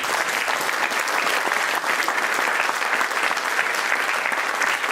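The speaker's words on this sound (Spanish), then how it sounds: "Dale un aplauso al Cordero" A congregation applauds at a Christmas church service, giving dense, continuous, enthusiastic clapping from many hands at strong, even loudness with no talking over it.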